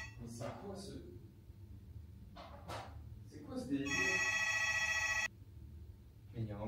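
A phone in a Dubai apartment rings with a loud, sustained electronic trill for over a second, following short bursts of sound, and people talk around it.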